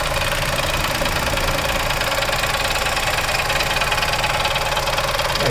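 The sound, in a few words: new Chevrolet Onix engine noise when pressing brake pedal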